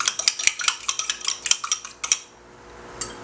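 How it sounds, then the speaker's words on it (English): Fork rapidly clinking against a bowl while beating an egg, about a dozen quick rhythmic taps over two seconds, close and crisp, then a pause and one last tap. "I'm gonna beat this egg a little bit first and then add it to that."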